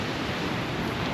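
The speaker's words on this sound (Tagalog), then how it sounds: "malakas pa yung ang hangin, amihan pa" A strong northeast monsoon wind blows by the sea, a brief, even rush of broadband noise buffeting steadily without pause.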